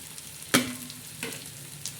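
Tomato, green chili and coriander mixture frying in a pot for chicken pulao, with a steady low sizzle broken by a few sharp stirring scrapes, one loud near the start and softer ones after.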